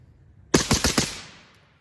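Daniel Defense 14.5-inch carbine firing outdoors: five sharp rifle shots in rapid succession, loud and close, each cracking over the last, followed by a decaying echo tail.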